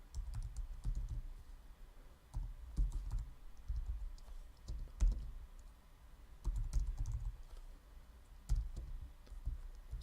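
JavaScript code being typed on a computer keyboard: quick, uneven bursts of soft key clicks with short pauses between runs, close and fairly quiet, with no talking.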